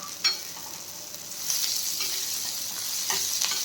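Masoor dal stirred into a pan of cooking wild greens (gholachi bhaji), heard as a soft, close sizzle with scraping and stirring that grows a bit louder partway through, with no talking.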